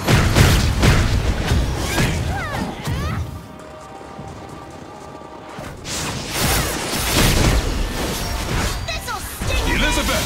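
Bombs exploding during a battle in the mobile game Seven Knights 2, a dense run of loud booming blasts and crashes with a short quieter lull midway before the explosions return at full strength.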